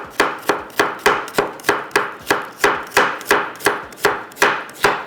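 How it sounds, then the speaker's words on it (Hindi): A knife chops onion on a cutting board in a steady rhythm, about a dozen sharp, close, evenly spaced strikes with no talking. "इतनी देर में प्याज को कटिंग कर लेती हूँ"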